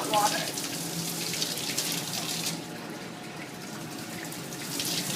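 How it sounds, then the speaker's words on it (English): Hot water runs from a tap into a stopped rinse sink in a dishwashing station, a steady close rushing and splashing flow that continues throughout. "make sure that the drain is stopped, and then we use"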